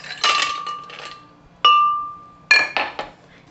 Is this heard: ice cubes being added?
yes